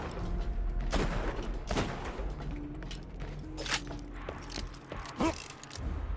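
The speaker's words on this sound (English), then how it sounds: "You just have to keep shooting and shooting and shooting." Rapid gunfire from the video game Borderlands 2, repeated bursts and sharp shots with mechanical clatter, loud and close throughout.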